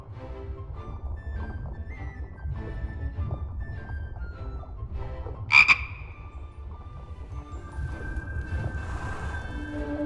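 A cartoonish frog croak rings out once, short and sharp, in The Book of Unwritten Tales 2, a fantasy adventure game, rising over a steady bed of soft orchestral music.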